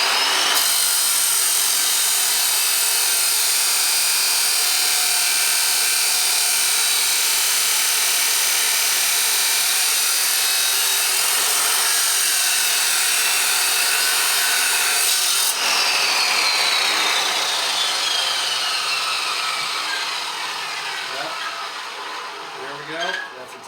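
Angle iron being cut for legs with a power tool, a continuous loud grinding whine holding steady for about twenty seconds before tapering off at the end.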